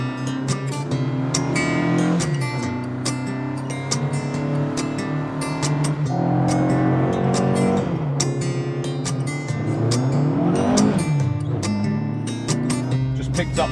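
A Group 4 spec rally car with a Pinto engine, apparently an Opel Manta, pulls hard on a joyride in Ireland, its loud engine rising and falling through repeated gear changes, with a voice faintly under the noise.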